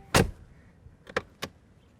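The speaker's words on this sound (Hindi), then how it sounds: "जब आप गाड़ी में ये डोर हैंडल का क्लिक क्लैक साउंड" A car door handle gives a clicking clack: one sharp click, then two lighter clicks about a quarter second apart. The clicks are close and clear over a quiet background, with no talking.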